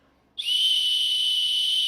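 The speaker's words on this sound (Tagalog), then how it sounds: "pumito ka lang dito for emergency SOS" A loud, shrill emergency whistle on a multi-tool keychain light starts abruptly after a brief silence and holds steady at full strength, piercing and close.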